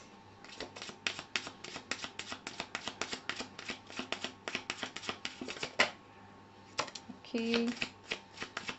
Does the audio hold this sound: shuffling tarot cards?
yes